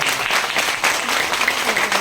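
Audience in a hall applauding at a New Year celebration event, loud continuous clapping from many hands, close and dense throughout without breaks.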